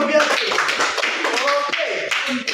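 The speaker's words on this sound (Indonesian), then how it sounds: "Tepuk tangan sekali lagi sama Biagi." Classroom applause from a small group of pupils, a steady patter of clapping lasting the whole moment, mixed with voices talking over it.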